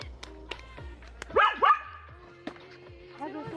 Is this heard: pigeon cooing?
no